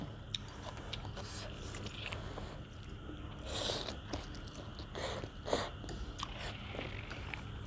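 Quiet crunching bites of crispy fried pork rinds eaten with pork noodle soup, irregular crackles and chewing close to the mic over a soft background hum.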